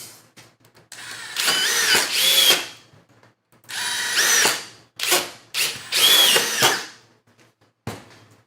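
A DeWalt impact driver drives three wood screws in a tool test. The close, loud whirring and rattling hammering comes in several rising bursts separated by short pauses, ending in a brief final blip.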